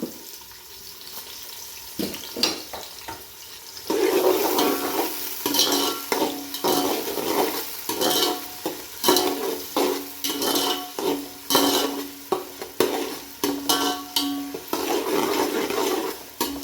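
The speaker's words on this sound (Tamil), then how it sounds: "வெங்காயம் போட்டு இப்போ வந்து இது வதக்கிக்கலாம்." Onions sautéing in oil in a pan for vegetable kuska, with a steady sizzle broken by repeated scraping stir strokes from a spoon, close and fairly loud, with no talk.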